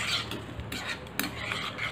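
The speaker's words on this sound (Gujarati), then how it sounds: "સરસ આપણે વઘારને મિક્સ કરી લઈશું." A spoon stirring tempering (vaghar) for Surati khaman in a pot, with soft scraping and light metallic clinks at an uneven pace, close by.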